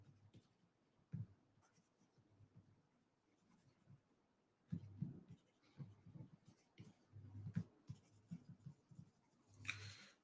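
Chalk or marker writing on a board during a chemistry lesson, faint scratchy strokes and taps coming in irregular bursts, quiet and close, with no talking.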